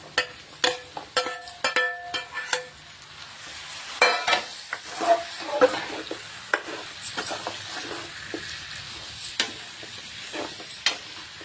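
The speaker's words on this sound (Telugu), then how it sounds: "ఇందులో మనము శుభ్రంగా కడిగి పెట్టుకున్న చికెన్ అయితే వేస్తున్నాను" Washed raw chicken goes into a hot pan for Telangana-style gongura chicken and gets stirred, with a steady sizzle under repeated scraping and clinking of a spoon against the pan, in irregular bursts, no talking.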